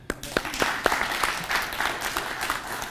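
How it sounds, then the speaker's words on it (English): Guests applaud at a birthday celebration at a yacht club, a burst of clapping that starts with sharp individual claps and settles into a steady, moderately close round of applause. "Please, may we clap for Lucy."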